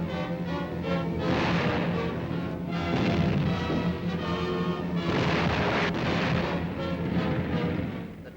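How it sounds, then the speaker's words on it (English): Artillery batteries fire before the 1941 advance on Bardia, a dense, continuous rumble of overlapping booms rolling at a fairly constant loudness throughout, with no voices. "Land batteries swell to a crescendo immediately before the well-planned advance."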